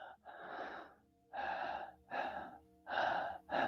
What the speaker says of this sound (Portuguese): Eu estou respirando.